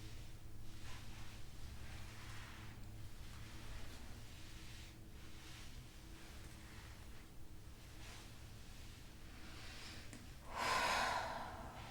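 Slow, steady breathing during a beginner yoga session, soft rhythmic inhales and exhales through the nose over a low constant hum, ending in a louder, fuller exhale near the end.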